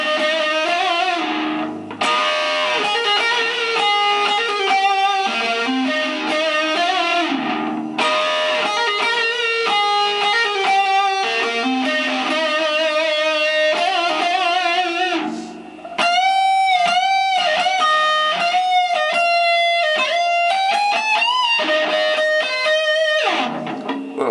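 An electric guitar plays the solo from Ozzy Osbourne's Mama I'm Coming Home, with bent and sustained lead notes, slides and quick runs, loud and close, with a brief pause partway through.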